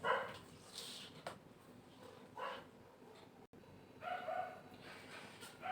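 Dogs bark nearby in several separate bursts, loud at the start and again near the end, with quieter gaps of background noise between them.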